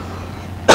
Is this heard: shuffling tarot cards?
no